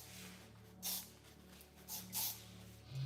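Hairspray hisses from a can in short bursts onto hair before teasing, three quick sprays close by over a faint steady background hum.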